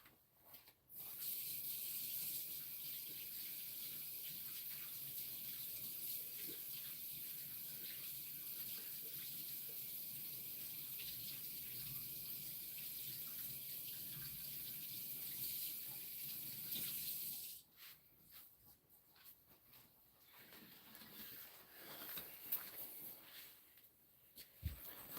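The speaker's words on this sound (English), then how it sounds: "So we're gonna go ahead and get this washed off." A tap runs hard and steady for about sixteen seconds, rinsing off a fire rock, then shuts off, leaving quieter handling and a few small knocks and splashes.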